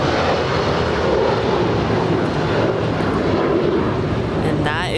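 A United Boeing 757-300 airliner departs Los Angeles International Airport, a loud, steady engine roar and rush throughout, with a voice talking over it.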